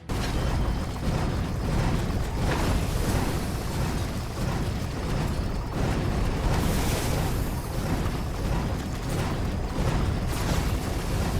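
Explosions in the video game Achilles Survivor, a dense run of booming bursts layered over each other, loud and continuous with no talk.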